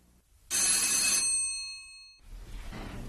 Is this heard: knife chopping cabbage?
no